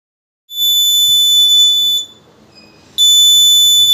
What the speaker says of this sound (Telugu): ఏదైనా ఆబ్జెక్ట్ పెట్టినప్పుడు మాత్రం మనకి బజర్ సౌండ్ అనేది ఇస్తుంది.